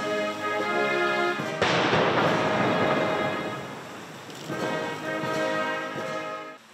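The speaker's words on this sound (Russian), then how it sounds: "21 артиллерийский залп." Artillery guns fire a 21-gun salute over Kyiv, and a loud, sharp boom rolls out into a long, rumbling echo across the city.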